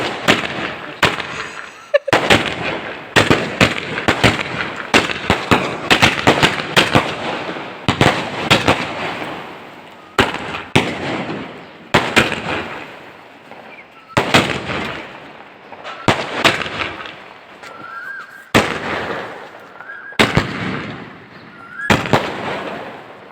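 A thirty-shot fireworks cake fires a rapid series of loud bursts and crackles, shots coming in close clusters with brief gaps between them and ending in a final volley.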